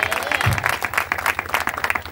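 A church congregation claps hands in rapid, rhythmic unison during a Christmas worship service, a brisk burst of many hands close by and fairly loud, with faint voices underneath.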